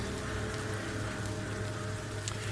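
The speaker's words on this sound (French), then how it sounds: "Il y a un bruit au travers de la pluie" Steady rain as a sound effect during a tabletop role-playing session, a continuous hiss of falling drops over a low hum, with no voices.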